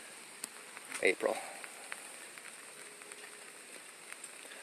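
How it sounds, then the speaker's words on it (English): Steady light rain falls outdoors as a soft, even hiss, with a few faint drips and a brief spoken word over it. "It's noisy, and we have rain"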